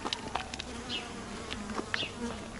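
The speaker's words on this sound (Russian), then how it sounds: "Это лаванда с пчелами." Bees buzz steadily among lavender plants in a Turkish village garden, a close, continuous drone with individual insects passing near and away.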